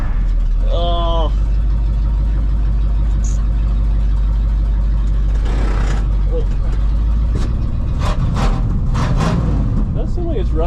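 Ford car engine idling steadily and loudly after being started, a constant low drone throughout, with people talking over it.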